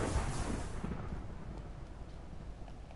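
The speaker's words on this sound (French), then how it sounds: "L'orage. Orage." Thunderstorm in the video game Minecraft on PS4, a loud rumbling roll of thunder that swells at the start and then settles into a steady low rumble, with no voices over it.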